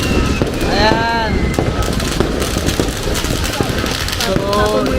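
New Year's Eve fireworks burst nearby and around a home: repeated crackling pops and whistling rising streaks over a constant noisy rumble, with people talking close by throughout.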